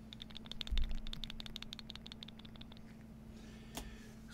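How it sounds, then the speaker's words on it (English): Proof Morgan and Peace silver dollar coins rattle inside a hard plastic capsule, a quick burst of light clicking taps for a few seconds close to the microphone, then one final click. "These things are rattling inside the capsule."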